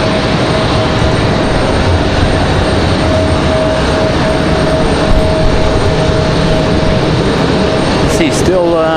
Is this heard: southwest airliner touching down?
yes